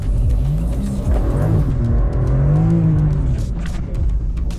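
A BMW M2 engine revs hard and accelerates away from a standstill with traction control off, loud and close, rising in pitch across the clip with no talk over it.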